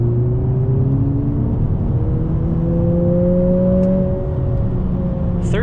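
A 2020 Honda Civic Si engine pulls steadily in third gear along a mountain road, a loud, continuous drone heard from inside the cabin with its pitch slowly rising and falling as the car climbs and eases off.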